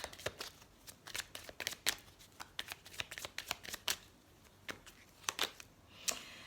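Tarot cards are shuffled close by in quick riffling bursts and flicks, a rapid uneven rustle that slows toward the end. The sound is soft and alone, with no voices.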